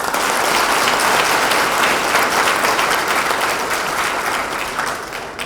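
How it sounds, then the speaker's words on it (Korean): An audience at a Democratic Party local election candidates' meeting in Busan applauds, a loud dense round of clapping that holds steady, then thins slightly near the end. "출마자 여러분들의 용기와 도전에 우리 모두 박수를 보냅시다."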